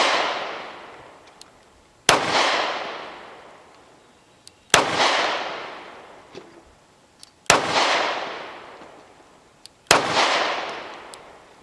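Four sharp pistol shots from a Girsan MCP35 LW ring out outdoors, evenly spaced about two and a half seconds apart, each loud crack trailing into a fading echo, with faint clicks between them.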